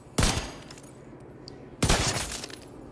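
Two sharp pistol shots in the shooter game Tom Clancy's The Division 2 during PvP play, loud, close cracks about a second and a half apart, each with a short ringing tail.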